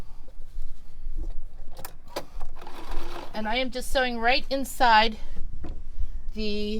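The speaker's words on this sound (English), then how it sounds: "I'm going to sew right there again to fold in the cuff." A sewing machine stitches a pillowcase seam to fold in the cuff, its short whirring bursts starting and stopping, with someone talking in between and over the machine.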